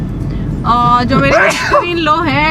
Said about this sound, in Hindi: इनको छींके आई जा रही है